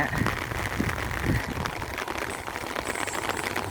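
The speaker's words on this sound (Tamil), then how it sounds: "அங்கே பாருங்க, மழை நல்லா கனமாக வருது." Heavy evening rain falls steadily outdoors around a Kubota tractor, making a constant, fairly faint hiss with a little rattle, and a voice is faintly present early on.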